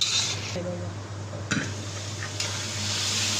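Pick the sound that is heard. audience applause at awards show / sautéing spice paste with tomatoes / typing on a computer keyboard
sautéing spice paste with tomatoes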